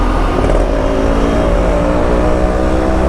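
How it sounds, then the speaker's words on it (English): A Yamaha RX100 two-stroke motorcycle fitted with a loud aftermarket muffler revs hard and continuously up close, its rasping engine note dense and loud with no talk. "Now I normally don't ride on this loud muffler every time on my RX100."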